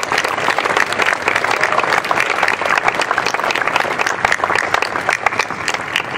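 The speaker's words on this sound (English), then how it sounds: "let's give a round of applause to our entering class of 2022." A college convocation audience applauds the entering class at TCNJ, dense and loud clapping sustained evenly for several seconds with no speech over it.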